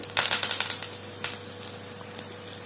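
Chana dal, peanuts and curry leaves sizzle in hot oil for a mango thali, giving a steady crackling hiss broken by sharp, bright pops, close and fairly loud.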